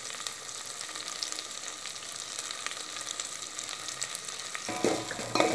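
Ginger and garlic sizzle steadily in hot oil in a pan, a constant close crackle. Near the end, tomatoes drop in with a sudden louder burst of frying.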